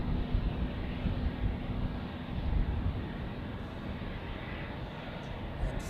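A British Airways airliner at Zurich Airport sends a broad, steady engine roar with heavy wind rumble across the microphone, loud and continuous throughout with no voices.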